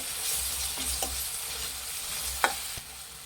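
A tablespoon of ginger garlic paste fries in a pan with a soft, continuous sizzle while being stirred, marked by a few distinct spoon scrapes and one sharper clink; no talking.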